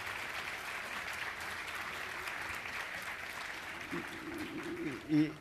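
An audience at a literary festival talk applauds in a steady, faint wash of many hands clapping from a distance, with a brief bump of noise near the end.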